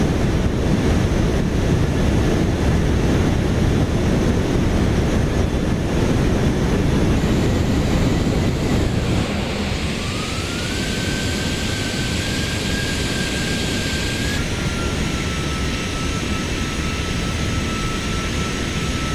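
Simulated Boeing 737-900 landing in the X-Plane flight simulator: a steady broad jet engine roar and rushing air, easing slightly after touchdown with a sustained whine, no talk.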